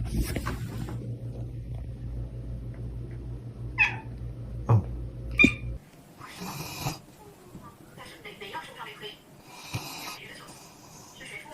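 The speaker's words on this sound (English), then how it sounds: "When your cat runs the maintenance man out of the apartment." A cat in an apartment yowls and growls at a maintenance man, its drawn-out moaning cries rising over a steady low hum, followed by scattered rustling and shifting noises in the room.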